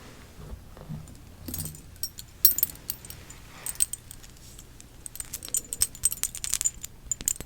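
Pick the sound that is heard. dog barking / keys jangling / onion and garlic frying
keys jangling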